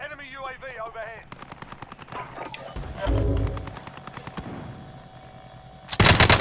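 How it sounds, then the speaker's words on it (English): Rapid bursts of automatic video game gunfire, rattling in quick rhythmic strings with a heavier boom midway, mixed with voices talking over the action. "Gunfire directly above you."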